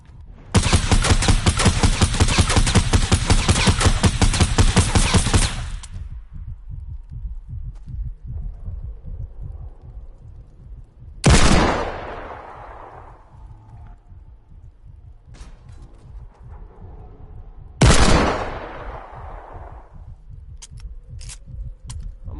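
Rapid automatic gunfire in Fortnite aimed at a dragon, a loud sustained burst of shots followed later by two single heavy booming impacts with decaying tails, over a low thumping heartbeat-like pulse in the background.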